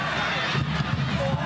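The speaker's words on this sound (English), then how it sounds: "Now listen to this crowd." Home fans in an Adelaide United A-League stadium roar in a broad, steady wash of crowd noise with swelling cheers, and a commentator's voice is faintly audible underneath.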